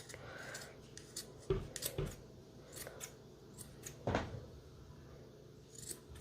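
Scissors cut through a yarn tassel to even out long strands, with a few sharp close snips spaced apart over quiet room tone.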